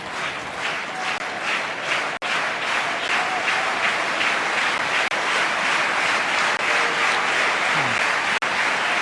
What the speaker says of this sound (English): Lovely clapping here.